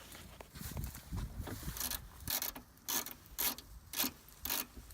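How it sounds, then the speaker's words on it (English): A Stanley spinner-handle ratchet turns loose bolts on an engine being pulled from a 1989 Toyota Tercel, giving close, rhythmic bursts of rapid clicking separated by short pauses. "using one of these nifty Stanley ratchets that when you spin the handle it turns it, so works pretty good for bolts and nuts that are already loose"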